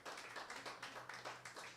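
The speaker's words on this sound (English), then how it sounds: "Let's all applaud for my wonderful wife, Kristy Aguirre." Audience applause for a comedian's wife at a weekly comedy festival theme show, a steady dense patter of many hands clapping close and fairly loud throughout, with no talk over it.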